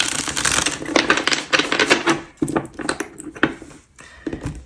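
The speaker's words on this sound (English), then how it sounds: "One more shuffle." Tarot cards riffle and slap together in quick, clattering bursts during a shuffle, close and fairly quiet, with brief pauses between runs.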